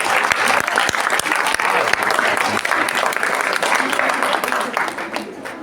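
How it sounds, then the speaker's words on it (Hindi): A crowd at a school celebration for National Girl Child Day breaks into loud, sustained applause. Dense clapping with a few sharp individual claps stands out, then it eases off toward the end. "तो मैं अब जोरदार तालियों से पाकिस्तान का स्वागत कीजिए।"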